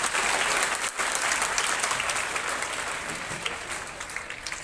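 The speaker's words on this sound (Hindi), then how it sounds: "इनके सम्मान में एक बार ताली बजाकर स्वागत करते हैं।" A school audience claps in welcome at a bicycle-distribution ceremony for girls, a dense, steady burst of applause from a large crowd that holds loud throughout before easing slightly toward the end.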